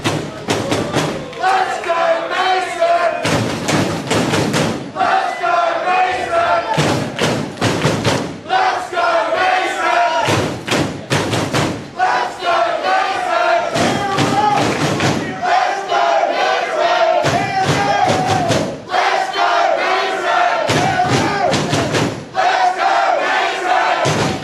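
A pro wrestling crowd at a PWA International title match between Mason Childs and Chris Hero roars and chants in loud rhythmic bursts, with shouted cheers and dull thuds breaking through the steady wall of noise.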